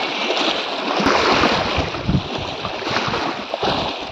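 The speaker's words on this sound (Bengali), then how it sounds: "নৌকাটা নিয়ে যাচ্ছে সামনে একটা ছোট মতো ঘাট," A boat on the Matla river heads toward a small ghat, with continuous water rushing and splashing against the hull and gusty wind noise, loud and close.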